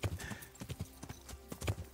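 Horse hooves clip-clop at a steady walking rhythm in the medieval game Kingdom Come: Deliverance, a series of distinct close thuds with no talking over them.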